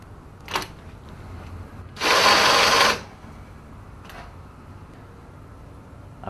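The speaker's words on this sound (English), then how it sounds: "we'll hold it in position and we'll screw in the 3 screws" A screwdriver drives screws into the brackets of a Red Sea MAX S-650 aquarium cabinet. One loud whirring burst of about a second stands out against quiet surroundings, with a few faint clicks before and after.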